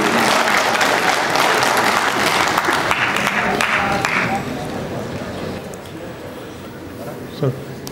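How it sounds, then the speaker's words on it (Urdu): Dense audience applause at a Sufi mushaira poetry recital at the Lahore Sufi Festival fills the room, loud at first, then thinning and fading out over several seconds. "جناب شکیل جاذب، آپ سب کی بھرپور تالیوں میں۔"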